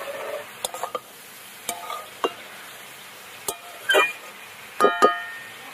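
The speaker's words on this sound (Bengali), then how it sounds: "এবার কপিটা একটু নেড়ে নেব" Shredded cabbage for a paratha filling is stirred in a pan: sparse, irregular spatula scrapes and light clinks over a quiet low background, with a couple of louder scraping bursts toward the end.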